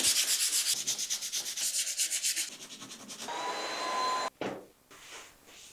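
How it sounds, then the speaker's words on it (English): Fine 220-grit sandpaper rubbed by hand over wood panels of a folding screen room divider, giving close, loud, rhythmic scratchy strokes that give way to a steadier continuous rasp and then a brief pause. "we're gonna hit it with a 220, which is a very fine grained sandpaper so that we don't rough this up too much"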